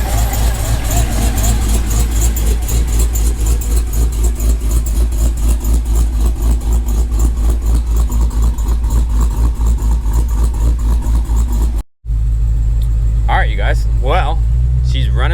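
Dodge Challenger Hellcat V8 idling close by in a fast, loud, lumpy burble that holds steady, then cuts briefly and returns with someone talking over it.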